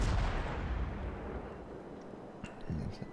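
Naval gunfire from an American cruiser in World of Warships: a loud, heavy booming blast that rumbles and decays over a few seconds, with a faint secondary thump near the end and no talking.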